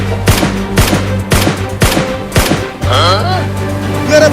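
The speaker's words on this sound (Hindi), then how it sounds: "अभी उस मछली को गोली मारता हूँ" Five sharp, loud gunshots in quick succession fired at a fish during a village flood, followed by a sustained electronic tone and warbling effect sounds, with no talking.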